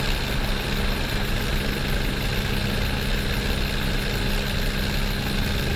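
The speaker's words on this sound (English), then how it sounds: "We're going to start engine number 1" Aircraft turbine engine number 1 spooling up through light-off to idle: a loud, steady, close-up roar with a constant high whine and low rumble, running alone without a break and without speech.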